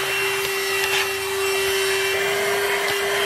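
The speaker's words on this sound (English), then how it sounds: "I can't believe how fantastic this vacuum works, and this attachment fits really nicely in all those little crevices" A VacLife VL189 handheld vacuum cleaner with a crevice attachment cleans inside a car, giving a steady loud motor whine with faint scraping and rubbing as the nozzle moves.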